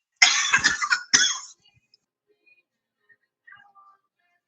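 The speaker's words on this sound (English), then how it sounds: "I need to cough louder" Two sharp, close coughs in quick succession, the first a longer rough burst and the second shorter, followed by near silence with a few faint small noises.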